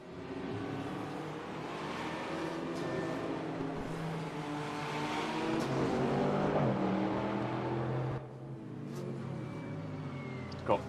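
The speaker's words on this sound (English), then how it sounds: "It sounds more beefy than I remember the Koenigsegg to sound." Koenigsegg GT1 race car engine in the RaceRoom sim at Brno, a steady loud droning roar with rising and falling revs, briefly dipping near the end, with people talking over it.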